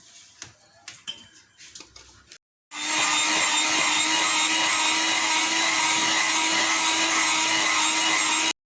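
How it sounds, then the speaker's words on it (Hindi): Electric hand mixer whipping cream for homemade vanilla ice cream, switching on after a few light clicks and taps, then running as a loud, steady whirring buzz without pause. "मैं क्रीम को अच्छी तरह व्हिप कर लूँ"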